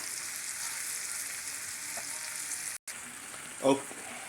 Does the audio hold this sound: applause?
no